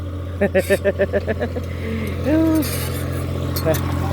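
A car being driven, its steady low engine hum running throughout beneath a man's chatter and a brief rising whine partway through.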